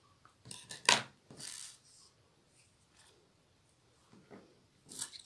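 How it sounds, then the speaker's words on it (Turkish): Scissors snip sewing thread during a crochet pacifier-doll project, a couple of quick close cuts with a sharper crisp click near the start and light handling rustles after, in a quiet room. "İpimi biraz iğne geçecek kadar uzun keseceğim."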